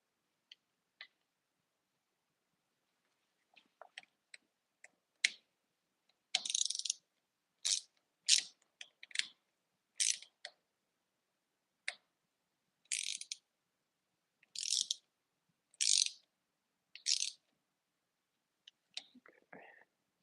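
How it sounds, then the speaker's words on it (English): Mountain bike shifter being tightened with a ratchet, giving a string of short, crisp clicking bursts that come in clusters and pauses, close and fairly quiet, with no talking. "let me see if I can get this stupid shifter tightened down where it needs to be"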